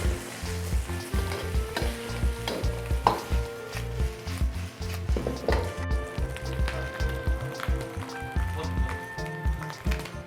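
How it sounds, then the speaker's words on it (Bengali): Chicken and prawn fried rice with egg and mixed vegetables being stir-fried restaurant style, loud rapid rhythmic tossing and scraping over a constant hot sizzle throughout. "এখন এটাকে আমি একটু ফ্রাই করে নিচ্ছি অল্প"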